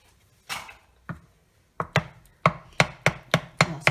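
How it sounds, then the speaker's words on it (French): Choux pastry dough being vigorously stirred after an egg is added, producing a series of sharp, close knocks of a spoon against the bowl that quicken into a regular rhythm, with no talk. "Et c'est reparti pour mélanger énergiquement."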